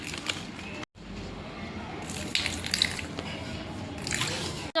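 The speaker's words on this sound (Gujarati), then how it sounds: "ચાલો ચટણી નાખીએ ને એમાં પાણી નાખવાનું છે" Water splashes and drips steadily into chutney in a home kitchen, a close wet patter with one brief drop-out near the start and a sharper splash at the end.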